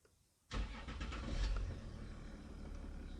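A 2010 Jaguar XF fires up from a push-button start after a brief quiet pause, its engine catching with a sharp burst and settling into a steady, close idle rumble.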